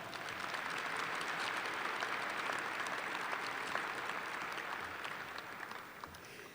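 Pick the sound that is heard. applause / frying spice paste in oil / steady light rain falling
applause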